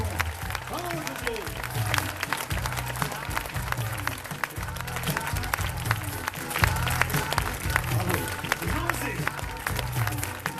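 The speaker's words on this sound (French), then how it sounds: "Et vous pouvez vous applaudir." A crowd applauds the winner of the 2016 World Conversation Championship final, clapping continuously and moderately loud while voices talk over it and a rhythmic low beat pulses beneath.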